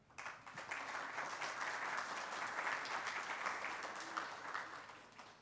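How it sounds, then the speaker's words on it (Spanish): Audience at an urban agenda forum clapping to greet officials and public service representatives, a quiet, distant-sounding round of applause that swells, holds steady for several seconds, then tapers off. "Para cada uno de ustedes, un saludo y un fuerte aplauso."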